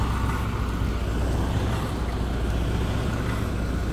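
A John Deere 130G motor grader's engine runs in a continuous low, rumbling drone with steady broadband noise, constant and fairly loud throughout on a rainy day.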